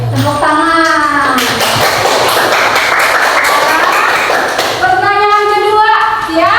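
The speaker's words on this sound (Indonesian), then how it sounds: "Tepuk tangan." Pupils clap together in a school classroom during a lesson quiz, a burst of mixed hand claps in the middle, with a speaking voice before and after it.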